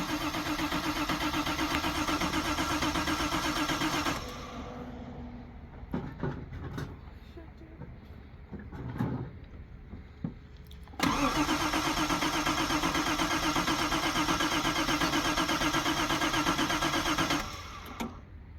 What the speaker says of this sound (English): Hit with some start fluid. Oh, dude, it'll crank.